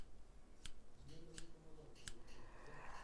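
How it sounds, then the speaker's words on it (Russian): Small hairdressing scissors snip three times at an even pace, each a crisp, close metallic cut that stands out against a quiet, hissy background. "вот эти маленькие ножницы, слышите, как у них звук? такие жик, жик, жик, жик, жик"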